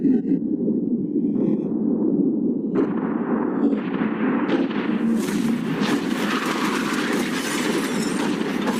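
Explosions blowing up a yacht, a steady loud roaring blast noise that keeps building and brightening into crackling, debris-like hiss over nine seconds, with no talk.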